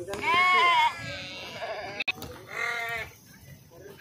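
Sheep bleating at a busy livestock market in Pebbair, Telangana, with two loud, drawn-out calls close by over the murmur of the crowd.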